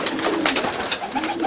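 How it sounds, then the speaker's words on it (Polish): Pigeons in a loft coo steadily and closely, several soft overlapping throaty calls layered over a dense hum of birds. "A tutaj są ciekawe gołębie"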